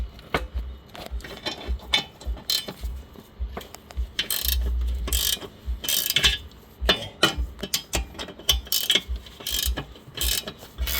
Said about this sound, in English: now let's use electric ratchet to speed this out